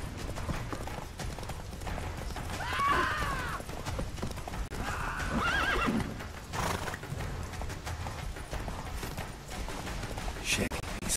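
A horse gallops in a video game, its hooves drumming in a steady rapid rhythm beneath game music and effects, with a couple of brief whinnies along the way.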